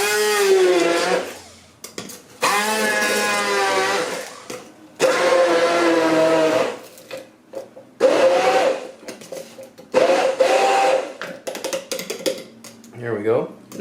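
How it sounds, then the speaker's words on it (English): Electric blender churning a strawberry ice cream mixture in a home kitchen, a loud steady whir in several long bursts separated by short pauses, with someone talking in between. "We're going to take our blender."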